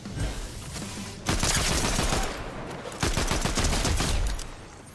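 Shotgun blasts in the video game Fortnite, two loud close booming shots a couple of seconds apart, each followed by clattering impact and rattle, with no talk.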